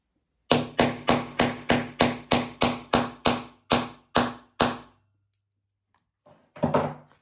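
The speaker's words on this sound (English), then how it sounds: "and then I hammer that down" A hammer strikes a snap fastener onto a leather wallet twelve times in a quick, even rhythm, each blow sharp and close, followed by silence and a faint rustle.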